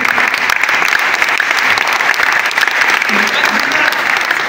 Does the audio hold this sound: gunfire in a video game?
no